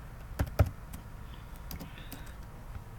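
A few sharp keystrokes on a computer keyboard, two distinct taps near the start and scattered lighter clicks after, close and quiet over a low room hum.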